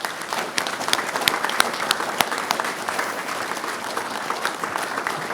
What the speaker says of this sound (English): join me one last time in giving a round of applause for these deserving recipients